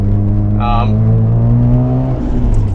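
Mazda RX-7 engine under way, a steady low harmonic drone with a brief higher whistling flutter from the turbo early on, loud and close throughout.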